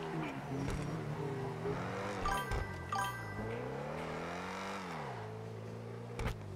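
A car in the video game GTA 5 drives fast. Its engine drones loudly and steadily, the pitch rising and falling as it revs and shifts, with brief clinks and scrapes partway through.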